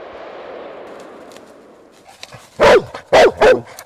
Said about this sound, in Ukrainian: Друге місце на щорічній атестації посіла ще одна собака вінницьких рятувальників лабрадор Норіс.